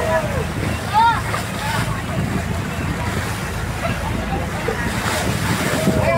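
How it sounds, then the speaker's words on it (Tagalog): Rushing, windy roar of big ocean waves around a moving boat crossing from Olango Island to Mactan Island, with faint voices and chatter mixed into the steady noise. "Medyo malaki ang alon guys."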